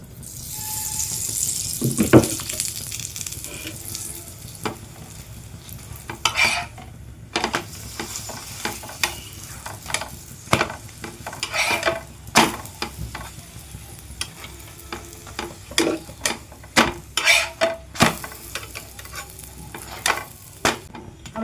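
Pea-stuffed paratha fries in refined oil, a continuous sizzle broken by repeated scraping and stirring knocks of a spatula in the pan, fairly close and loud, with no talking.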